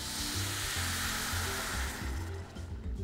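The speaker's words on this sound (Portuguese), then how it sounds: "Eu vou deglaciar essa panela." Dry white wine hits a hot pan of risotto to deglaze it, giving a loud, close, sustained hiss and sizzle that gradually fades toward the end.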